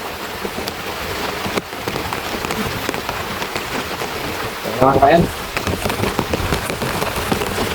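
Heavy rain pours steadily over crops on a farm, a dense continuous hiss close by, with a voice speaking briefly over it partway through.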